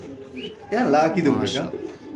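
Pigeons coo in low, throaty bursts, close by at a pigeon farm, with some voices or handling noise mixed in.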